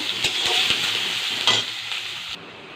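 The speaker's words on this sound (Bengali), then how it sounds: "পেঁয়াজটাকে হালকা লাল লাল ভেজে নেব।" Chopped onions fry in hot oil in a wok with bay leaf and garam masala, giving a continuous close sizzle. A spatula scrapes and clinks against the metal now and then as the onions are stirred.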